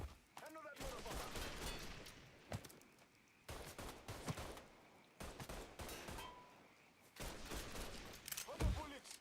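Bursts of gunfire in the crime game Mafia III, loud volleys of rapid shots separated by brief lulls, mixed with shouting voices.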